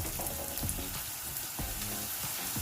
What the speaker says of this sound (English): remove the lid, flip the potatoes, stir them occasionally until they are brown on all sides